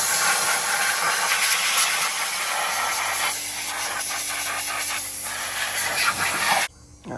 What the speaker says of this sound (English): Got my compressor right here.